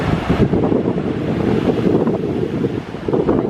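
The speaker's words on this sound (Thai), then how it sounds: "ได้ยินเสียงคลื่นนะคะ" Waves wash onto a sea beach in a loud, continuous roar, mixed with heavy wind buffeting the microphone.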